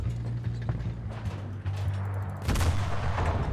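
Tank cannon fire in the video game War Thunder, a single heavy boom bursting out near the end after a stretch of rumbling engine and clanking mechanisms, loud and close.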